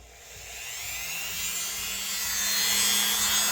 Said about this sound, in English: let's clean these tang stamps off to get started